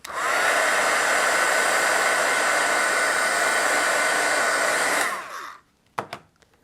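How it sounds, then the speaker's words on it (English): A heat tool drying watercolor paint blows a steady, loud hiss for about five seconds, then shuts off, followed by a few faint handling knocks. "I'm going to hit this with my heat tool."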